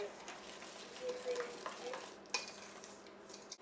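Andouille sausage and tomato stuffing being stirred in a sprayed pan, a soft close scraping and light sizzle with a few spoon knocks against the pan, quiet and without talk.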